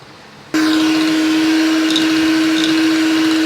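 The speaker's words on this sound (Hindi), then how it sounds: "दूसरा अंडा डाल के बीट करेंगे 2 मिनट।" An electric beater whirring through an egg and flour batter switches on abruptly after a brief quiet moment, then holds a loud, steady motor drone.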